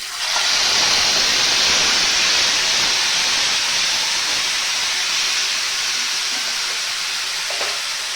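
Whole garam masala and cumin seeds dropped into hot oil for a jackfruit kofta curry, giving a loud, steady, close sizzling hiss that starts abruptly and holds for several seconds.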